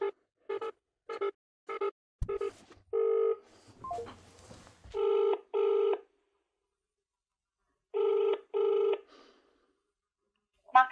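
Telephone line during a call: a series of evenly spaced ring or dial tones in short pulses, later longer paired tones separated by silence, with faint line noise between them.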